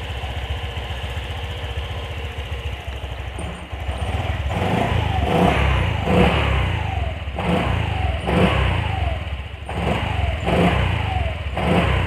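Honda Vario 125 scooter engine with a sputtering low-throttle fault is blipped repeatedly, loud close revs rising and falling in regular bursts over a rough idle.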